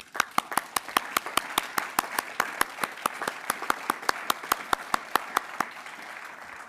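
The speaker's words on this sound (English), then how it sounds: "I would like to ask the class of 2026 to join in a round of applause for all those who helped make this day possible for them" A round of applause from the audience at a doctoral diploma and hooding ceremony, fairly close and steady, with distinct individual hand claps standing out above the dense clapping throughout.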